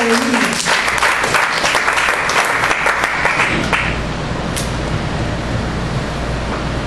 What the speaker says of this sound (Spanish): Démosle un aplauso a Cristo en esta hora de vida.